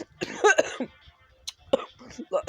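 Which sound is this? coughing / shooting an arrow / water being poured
coughing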